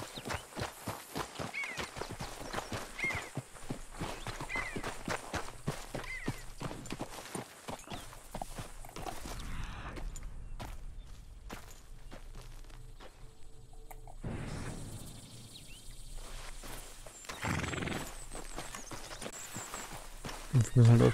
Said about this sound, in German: Guck mal, da hinten ist eine Pferdekutsche.